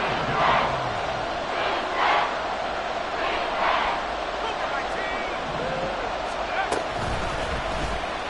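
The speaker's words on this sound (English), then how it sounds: "The Arrowhead crowd in full roar." A packed NFL football stadium crowd at Arrowhead roars continuously and loudly, swelling in waves throughout, with a broadcast commentator talking over the din.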